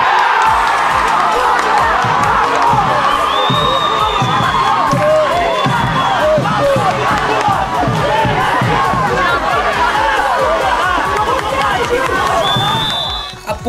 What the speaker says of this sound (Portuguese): levar a torcida à loucura